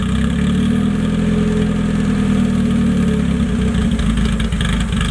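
A Honda-swapped off-road buggy engine runs loud and close, a steady throbbing idle that roughens and begins to rev near the end, with no voices.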